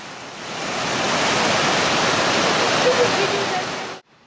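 A rushing river beside a hiking road in Telluride gives a loud, steady broadband roar of water that holds evenly for about four seconds before cutting off abruptly.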